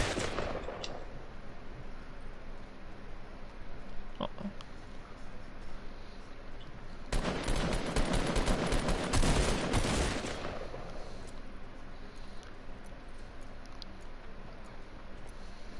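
Assault rifle fire in Fortnite, a loud rapid burst of shots lasting a few seconds in the middle of quieter game ambience, with a couple of faint earlier pops.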